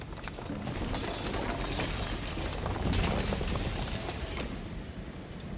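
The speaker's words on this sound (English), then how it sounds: "And then the shattering." In Slay the Princess, a prolonged shattering unfolds as a dense, crackling, ratcheting cascade of breaking fragments. It swells toward the middle and stays loud and continuous throughout, with no voices.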